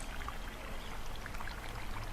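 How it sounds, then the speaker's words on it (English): A babbling forest brook flows in a soft, steady rush of water, continuous and fairly faint, with no voices. "hearing the sound of the babbling brook beside you,"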